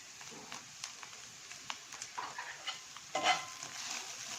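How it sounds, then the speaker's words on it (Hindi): Chili flakes, spices and tandoori masala being stirred into pasta in a pan, faint scraping and soft sizzling with light spoon clinks, close but quiet. "ये सारी चीज़ें आपने मिक्स कर लेनी है"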